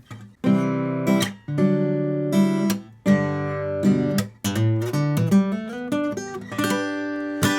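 A bright acoustic guitar riff with strummed chords and quick single-note runs, played up close in short phrases with brief pauses.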